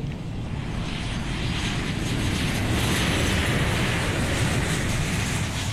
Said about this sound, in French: l'avion décolle de l'aéroport international d'Hilo à 13h25